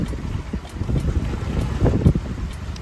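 A sailboat runs under mainsail at sea between Bimini and Eleuthera in the Bahamas, giving a low, uneven rush of wind and water with soft thumps and splashes close by.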